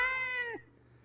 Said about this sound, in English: Cat sounds.